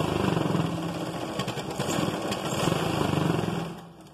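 A sewing machine runs steadily, stitching the side joint of a blouse, its fast motor hum and needle chatter continuous and close for about four seconds before stopping.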